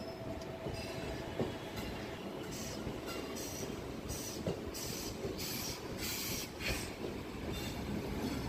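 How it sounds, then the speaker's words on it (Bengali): A train starting to move, used as a sound effect in a horror audio story: a steady rumbling roll with faint wheel squeal and clatter, continuous and fairly loud throughout. "ট্রেন চলতে শুরু করল।"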